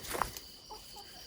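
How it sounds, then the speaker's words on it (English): Half-feral chickens scratching through a forest: a short, faint burst of clucking near the start, followed by a few soft, scattered calls over quiet outdoor background. "Half feral chickens running through the forest."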